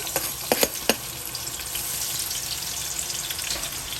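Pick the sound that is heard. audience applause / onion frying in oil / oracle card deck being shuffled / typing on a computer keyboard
onion frying in oil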